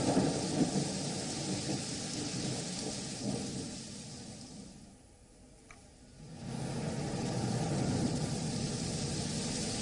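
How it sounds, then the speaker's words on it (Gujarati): Heavy rain pouring over Ahmedabad in the early morning, a dense steady roar with a deep rumble, dipping briefly midway before returning just as strong, with no voices. "અમદાવાદમાં વહેલી સવારથી વરસાદ વરસી રહ્યો છે."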